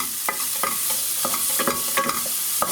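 Cut green beans stir-fried in a pan crackle and sizzle close by, with repeated scraping strokes of a utensil against the pan at an irregular rhythm and no talking.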